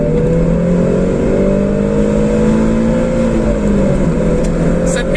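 A car accelerating at highway speed, a loud continuous engine drone with gradually climbing pitch heard from inside the cabin, steady throughout with a faint voice near the end.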